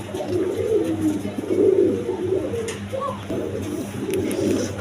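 Pigeons cooing in a loft, a male pigeon displaying with repeated deep throaty coos, close and steady, with faint chirps in the background.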